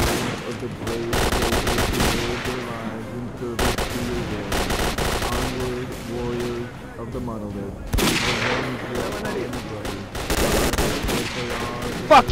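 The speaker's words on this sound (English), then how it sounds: "That's not a Gauss rifle, that's a sniper! Ow, shit! That was a Gauss rifle!" Heavy video game gunfire from Stalker 2, including Gauss rifle and sniper shots, comes in loud sustained bursts of rapid fire broken by short pauses, with a voice shouting between the volleys.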